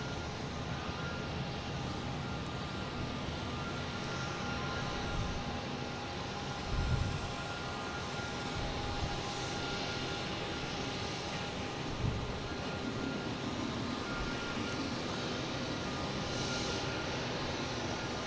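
A British Airways Boeing 777 arriving from London Heathrow lands at Boston Logan, its steady broadband jet roar holding at a constant level throughout, with a few brief low thumps rising out of the sustained noise.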